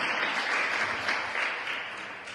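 Continuous applause fills a church service as the congregation claps during a sermon, a steady crowd patter that gently tapers in loudness toward the end, with no speech over it.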